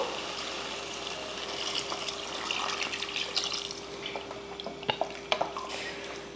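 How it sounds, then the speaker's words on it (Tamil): Water pours steadily into a pressure cooker of country chicken salna curry with a soft rushing splash, followed by a few light metallic clinks near the end. "இப்போ தண்ணி சேர்த்துருவோம்"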